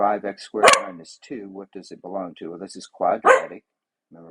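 A pet dog barks in short sharp bursts in a room while a person keeps talking through a math lesson, the barks tangled in with the steady speech.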